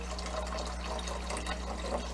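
Liquid pours steadily from the spigot of a container in a kitchen during French onion soup preparation, a soft continuous splashing wash over a low background hum.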